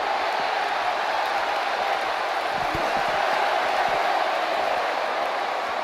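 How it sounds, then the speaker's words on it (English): Wrestling crowd at an indie MPW StarBound show, roaring and cheering on their feet as fighters brawl through them; a steady, dense wash of crowd noise that holds loud for the whole stretch. "The crowd on their feet."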